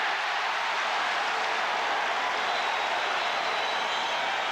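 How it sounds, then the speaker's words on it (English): Basketball crowd at a 1985 Celtics–Pistons playoff game roaring for Maxwell, a dense, steady wash of cheering and applause filling the arena throughout, loud and unbroken, with no clear voices standing out. "You can feel the crowd come alive every time Maxwell makes a positive move"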